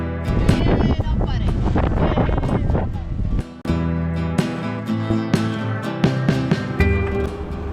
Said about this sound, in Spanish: Ayer lo habremos puteado un poquito el viento y hoy lo queremos mucho